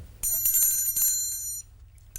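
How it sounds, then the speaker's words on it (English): A bell rings in a short, bright burst of repeated strikes lasting about a second and a half, then decays, with one more faint strike at the end. "Bell."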